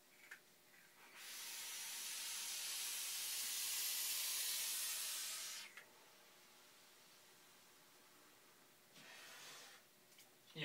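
A long, loud hiss of a vape inhale drawing through a wick on a fresh battery lasts several seconds and cuts off sharply, followed later by a shorter, quieter second draw.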